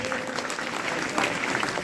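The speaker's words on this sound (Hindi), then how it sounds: "जोरदार तालियां इनके लिए" Students and teachers applaud at a Teachers' Day celebration at Rajiv School in Khejdawas, a steady, moderately loud patter of many hands clapping that continues evenly through the whole stretch.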